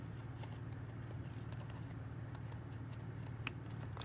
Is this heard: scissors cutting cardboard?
yes